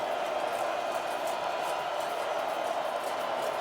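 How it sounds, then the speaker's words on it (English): Continuous crowd roar fills a football stadium during the Idaho vs Montana State FCS playoff game, a loud, even wash of noise that never lets up, with commentary over it. "This crowd is relentless."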